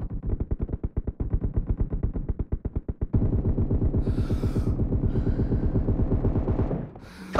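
Rapid automatic gunfire in PUBG, from a team deathmatch with M4 and M7 rifles, sounds as a steady stream of loud, close shots, slower bursts first and then a faster continuous volley, with no talking.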